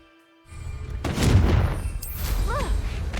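A Confringo fire spell bursts in Hogwarts Legacy, a sudden low boom that swells and rumbles for a couple of seconds after a quiet start, with a short whooshing tail and faint tonal effects near the end.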